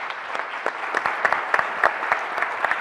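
An audience at an academic event on tax criminal reform in Guadalajara claps steadily, a moderate, uneven patter of many hands heard alone throughout.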